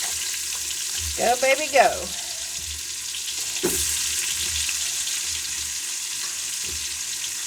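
Onions hitting a hot pan of bacon fat in a corn chowder, a steady low sizzle with a brief burst of stirring and scraping near the start, while a voice speaks briefly over it.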